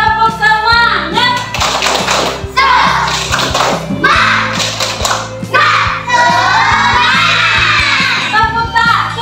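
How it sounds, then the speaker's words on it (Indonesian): Children in an Indonesian classroom perform a rhythmic clapping chant, with loud, sharp, patterned claps close by, mixed with their shouted, chanting voices throughout. "Tepuk semangat."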